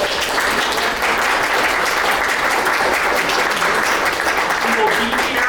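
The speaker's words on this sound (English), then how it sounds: "So let's give her a round of applause." An audience applauds Lauren Ruiz, an artist in residence, at an art installation talk, with steady, dense clapping that fills the room evenly from start to finish.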